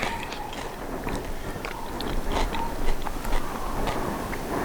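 Crunchy bites into BBQ nachos topped with smoked pulled pork, cheese and sauce, followed by close, moist chewing with a few louder crunches, alone without talk.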